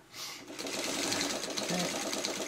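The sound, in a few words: sewing machine stitching fabric coasters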